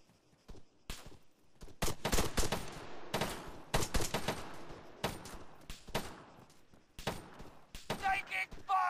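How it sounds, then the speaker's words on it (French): Gunfire in the video game ARMA III: a rapid volley of sharp, loud shots, some in quick bursts and others spaced apart, echoing as a firefight, with a brief bit of voice near the end. "On nous tire dessus."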